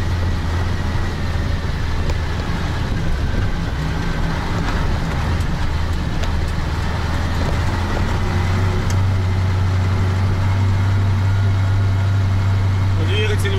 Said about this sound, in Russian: Двигатель в этом Урале абсолютно по-другому работает.